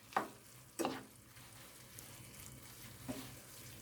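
A faint, steady sizzle comes from moussaka filling of minced meat with tomato paste sautéing in a pan. A few sharp clanks and scrapes of stirring sit near the start and again later, with no one speaking.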